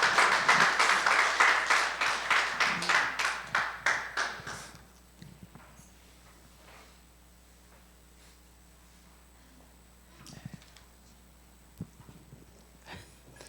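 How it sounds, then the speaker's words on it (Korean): At a church camp forum, a small gathering claps rhythmically in unison for an elder coming forward, the steady beats fading out after a few seconds into a quiet room with occasional faint knocks. "박수로 하겠습니다."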